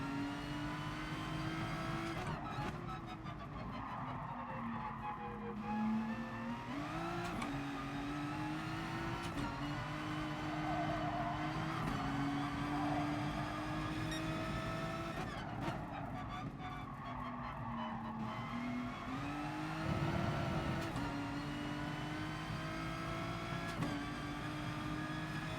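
Race cars lap in GT Sport, engines droning and revving in long rising and falling sweeps as cars shift through the gears, steady and fairly close, with a few brief tyre squeals and quiet commentary talk underneath.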